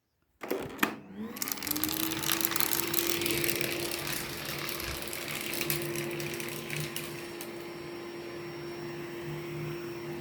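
A household vacuum cleaner switches on with a bump and settles into a steady, loud motor whine and airy roar at close range, running continuously on a living-room floor strewn with spilled beans and lentils.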